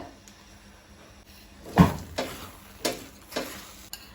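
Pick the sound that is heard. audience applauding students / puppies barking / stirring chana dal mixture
stirring chana dal mixture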